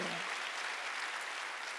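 Applause from a church congregation during a Sunday worship service, a dense, steady wash of many hands clapping at once, continuing without pause for the whole stretch.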